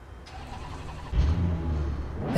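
In Assetto Corsa EVO, a race car's engine cranks and catches halfway through, jumping into a loud, low, steady idle rumble after a quieter stretch of background noise.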